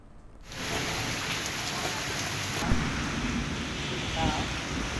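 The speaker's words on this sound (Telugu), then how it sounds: "ఒక్కసారిగా ఈదురుగాలులతో కూడిన భారీ వర్షం కురవడంతో" Heavy rain with strong gusty winds pours down steadily and loudly, a dense continuous roar after a brief quiet start, with occasional louder gusts or distant rumbles.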